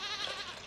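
A goat from the Stardew Valley farming video game gives a single short, nasal bleat, close and clear with no other sound around it.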